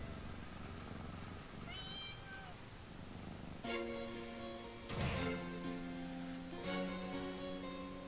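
A cat meows in the cat room of the video game Pocket Mirror: a thin rising meow appears early, then sustained game music with chiming tones and a soft purring texture underneath.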